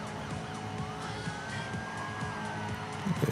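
A car drifting in the mobile racing game Need for Speed: Most Wanted, with a continuous engine roar and a long sliding tyre squeal, a police siren wailing faintly behind it.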